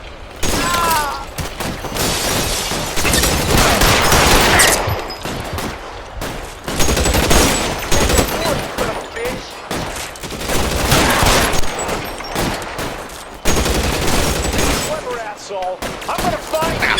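Gunfire in L.A. Noire Remastered, with repeated loud bursts and rapid volleys crackling over several seconds, mixed with shouting voices in the fight.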